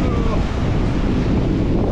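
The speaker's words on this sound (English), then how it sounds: "I love watching the waves crash." Ocean waves crash on a beach in a continuous loud roar of surf, with heavy wind buffeting the microphone throughout and no distinct breaks between swells.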